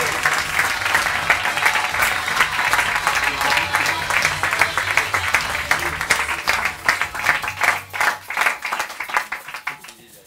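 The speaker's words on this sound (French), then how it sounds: "Je vous demande d'applaudir Fabrice Deporteur" An audience at a French stage talk applauds a speaker with dense, steady clapping that thins out into scattered claps and fades toward the end.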